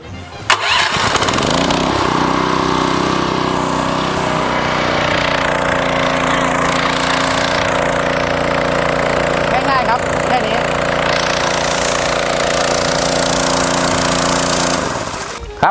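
A water pump engine is started with a key. It cranks briefly, then catches and settles into a loud, steady, close idle that runs evenly for most of the stretch before cutting off at the end.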